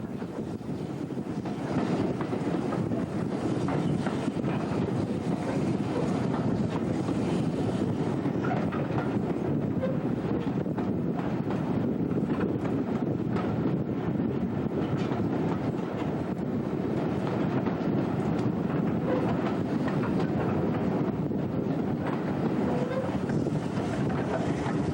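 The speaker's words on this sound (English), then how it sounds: "we get some more shots of the locomotive as it twists around the winding rail line heading down towards Lewisham" A steam locomotive works along a winding rail line toward Lewisham, its rumble steady and continuous throughout, heavily mixed with wind buffeting the microphone.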